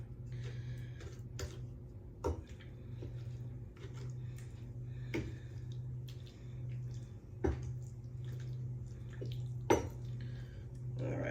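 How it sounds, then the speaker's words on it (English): A spoon stirs a fall dessert mixture in a dish. Quiet, sparse clicks and taps of utensil against the dish sit over a faint steady hum. "I'm just gonna go ahead and give this then a quick little stir"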